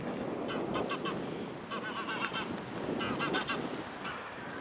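Geese honk repeatedly over Paczkowskie Lake near Paczków, Poland, in March. Loud calls come in several bursts over a steady outdoor wash.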